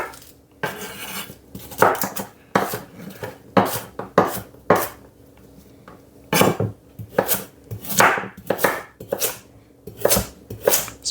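Vegetables for a Sunday roast beef dinner cut on a wooden board with a knife, giving a series of sharp, close chops in irregular bursts with brief pauses between, loud and clear without talk.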